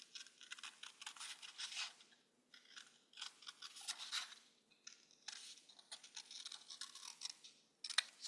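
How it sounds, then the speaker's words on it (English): Scissors cutting a paper bumblebee template, giving faint close snipping and crisp paper rustles in short irregular bursts separated by brief pauses. "Follow the line, cut it out."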